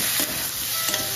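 Spices frying and being stirred for a potato and egg curry: a dense, steady sizzle with scraping spoon movements in the pan, close and moderately loud, with no talking.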